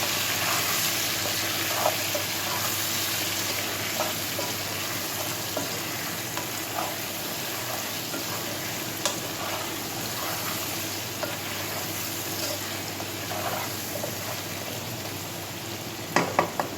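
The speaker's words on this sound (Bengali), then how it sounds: "এটাকেও ভালোভাবে আমরা 4-5 বার এইভাবে নাড়িয়ে নাড়িয়ে কষিয়ে নেব" Fish curry with turmeric sautéing in a pan, a dense continuous sizzle and crackle with scattered spatula scrapes and a few knocks near the end, close up and without talk.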